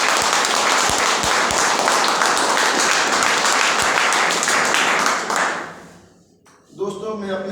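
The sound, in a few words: audience clapping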